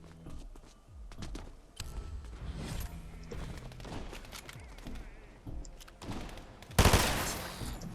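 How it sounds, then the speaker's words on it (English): Gunfire rings out in Fortnite Zero Build battle royale as a player shoots security cameras, with bursts of rapid shots and footsteps mixed in. A loud, sharp blast near the end stands out above the rest. "Shooting the cameras."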